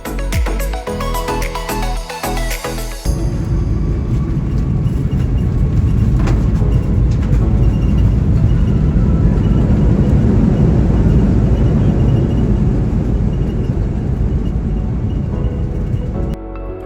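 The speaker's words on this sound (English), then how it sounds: "Not too long later, we started our descent into the cool and humid Cairns." A steady broadband roar fills a Jetstar airliner cabin on descent into Cairns, loud and continuous after a brief burst of clattering at the start.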